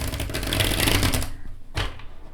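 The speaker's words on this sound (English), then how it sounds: "So I'm gonna show you how this deck shuffles." A felt tarot card deck is riffle shuffled up close in one quick rattling burst of flicking cards, followed by a short pause and a single soft tap as the deck settles.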